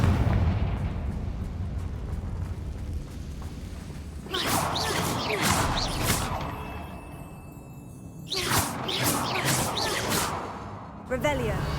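A Confringo fire spell bursts in Hogwarts Legacy, giving two loud fiery explosions with whooshing tails that rise out of a rumbling background, separated by a few seconds of quieter ambience.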